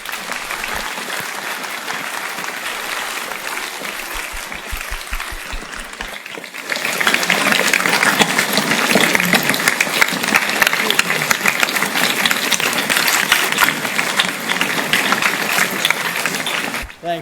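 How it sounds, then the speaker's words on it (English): A large lecture audience applauding steadily, growing louder partway through and sustaining a dense wash of clapping until it cuts off. "can we please give one last round of applause for Professor Thorne?"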